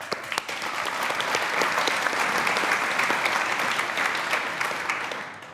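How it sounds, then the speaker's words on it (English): An audience at a tech conference opening keynote claps steadily for the sponsors, a dense, sustained round of applause that holds at full strength across the whole stretch and fades slightly at the end. "so a hand of applause for them."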